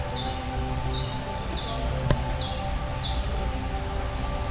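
Birds and newly hatched chicks chirping in Key West, many high, rapid tweets and short calls overlapping in bursts against a steady low outdoor hum, with one brief sharp click midway.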